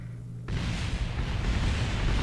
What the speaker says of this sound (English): When this thing explodes, it explodes.